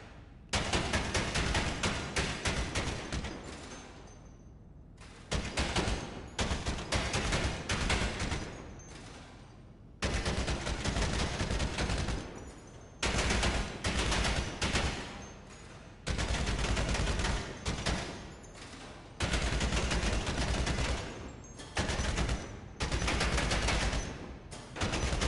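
Combat MG machine gun in GTA Online's bunker shooting range, firing long sustained automatic bursts separated by short pauses, loud and close with no talking.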